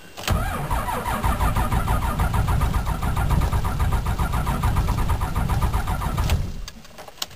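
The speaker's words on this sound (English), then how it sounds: "Come on, Brutus, you can start. Get started in your truck, eh" Truck engine cranking and struggling to start, a loud steady rhythmic starter churn lasting several seconds before cutting off.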